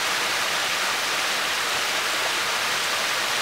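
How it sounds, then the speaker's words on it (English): Loud, continuous rushing roar of a long staircase-type waterfall at Salisbury Falls, a broad steady hiss with no breaks or voices. "the top waterfall's a great big long staircase type waterfall"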